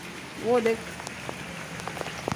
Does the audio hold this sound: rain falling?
yes